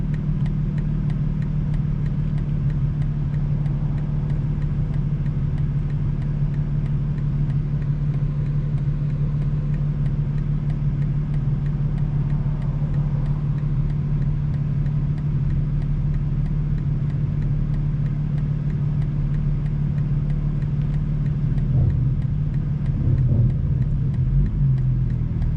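A car cruises along with a steady, droning engine hum and road rumble, loud and unbroken for the whole stretch, with a slight swell near the end.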